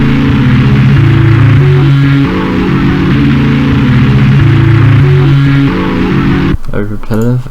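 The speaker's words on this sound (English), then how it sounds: "as you can hear, I put some distortion on, and then after that I just consolidated it, reversed it, pitched it up" A distorted, buzzy synth melody one-shot repeats in short stepped phrases, then cuts to a brief reversed, pitched-up rising swoosh at the end.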